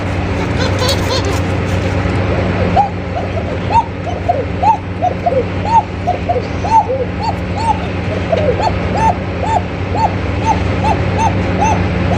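Fancy racer pigeons, a male and female pair at a farm, coo in a repeated thin, high-pitched rhythm over a steady low background hum, calls recurring roughly every half second, fairly close.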